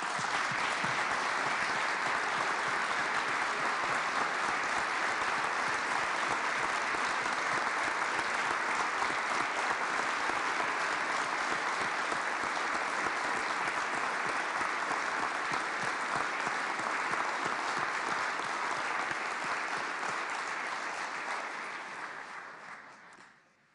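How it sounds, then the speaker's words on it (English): Sustained applause from the audience in the Kansas Capitol for the state's teachers during a State of the State speech, dense, even clapping for over twenty seconds before tapering off abruptly. "we thank you and we applaud you"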